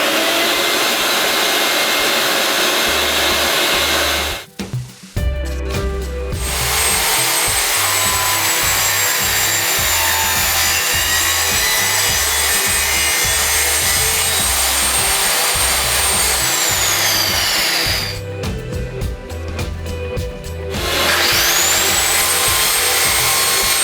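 A power saw whines loudly and steadily through tongue-and-groove wooden ceiling boards, with a dust vacuum droning alongside; the noise drops away briefly twice before resuming.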